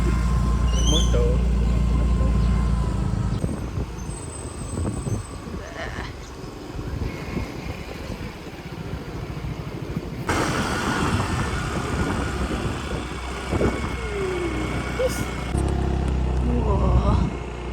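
Motorcycle and car engines on a road in Cameron Highlands, with rumbling passes, wind buffeting the microphone, and voices talking over the traffic that rises and falls across the stretch.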